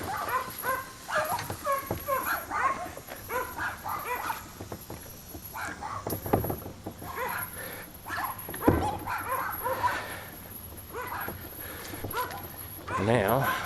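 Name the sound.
dogs barking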